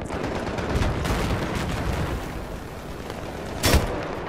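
Gunfire in the video game Battlefield 3 crackles through a noisy battle mix, with a sharper, louder shot bursting out near the end.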